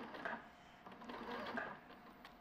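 A Juki sewing machine stitches a duffle bag with a soft, steady mechanical whirr and light rhythmic ticking, fairly faint and close.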